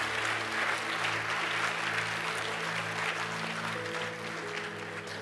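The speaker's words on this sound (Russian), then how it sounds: "Давайте мы еще аплодисментами поддержим все, кто выходит." Sustained applause from a church congregation during a sermon, a dense steady clatter of clapping hands filling the room throughout, with a faint sustained musical tone underneath.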